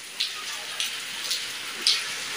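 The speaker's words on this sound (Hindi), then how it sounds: "दोबारा बारिश शुरू हो चुकी है" Soft, steady hiss of light rain falling, with a few slightly louder drips standing out now and then.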